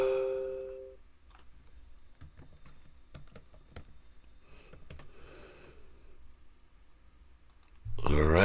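Computer keyboard being typed on while a password and username are entered, a quick irregular run of light plastic key clicks from about one to eight seconds, close and fairly soft, with a louder burst of other sound at the end.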